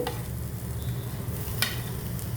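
Chopped tomato added to spices frying in a pan, a steady close sizzle with occasional stirring scrapes and clatters.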